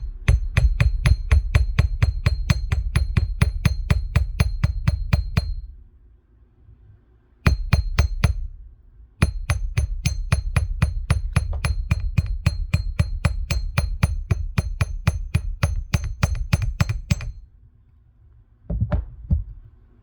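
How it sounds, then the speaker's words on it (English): Small hammer tapping a slight curve into a metal earring bead on a block, a steady run of bright metallic clinks in quick rhythmic bursts, paused twice, close and loud with no talk. "I'll just hammer this slight curve right here."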